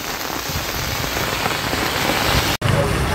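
Steady, dense patter of rain falling on a surface at Horsley Hills, Andhra Pradesh, loud and close, continuing without a break apart from one very brief dropout near the end.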